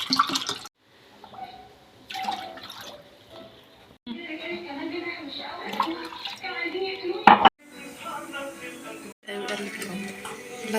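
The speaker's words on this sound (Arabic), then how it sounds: "بنفس الكوبايه نزود 3 كوبايات ميه ماشي، لان شربات البسبوسه بيبقى" Water poured from a cup into a pot for basbousa syrup, several separate pours with gushing bursts between pauses, close by, along with a clink of dishes and a voice talking over it.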